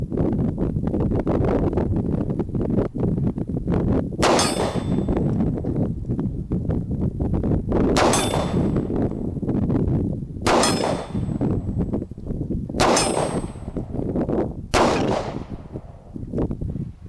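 Ruger SP101 .357 Magnum revolver shots hitting steel targets outdoors, five sharp, widely spaced cracks with ringing clangs, heard over constant wind noise on the microphone.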